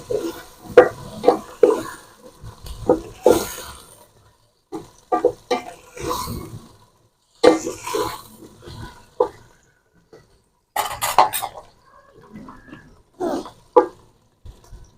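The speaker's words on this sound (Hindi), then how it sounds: "इसको डाल के भून लेते हैं थोड़ा" Boiled mutton being fried with ginger and garlic in a pot for yakhni pulao, with intermittent stirring scrapes and sizzling bursts close up, separated by brief quiet gaps.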